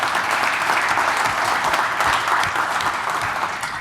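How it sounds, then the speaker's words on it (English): An audience at an event's opening remarks gives a loud, sustained round of applause, dense even clapping that holds steady and alone for the whole stretch. "So if we could get a round of applause for these people and their time and effort"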